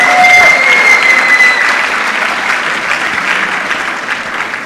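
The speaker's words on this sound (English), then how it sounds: "give yourselves a round of applause" Loud, sustained clapping from a large audience at the Kenya National Research Festival 2024 awards ceremony, a dense steady roar of hands that gradually softens.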